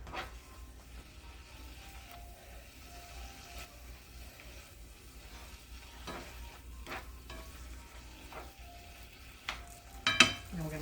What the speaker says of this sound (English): Now we're going to let that simmer for just a minute